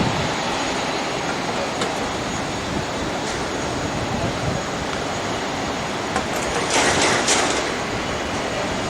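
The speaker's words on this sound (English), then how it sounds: "Another plane coming in." A Fiji Air plane from Nandi comes in to land at Auckland Airport, a steady broad roar that holds level throughout with little rise or fall, heard from the ground nearby.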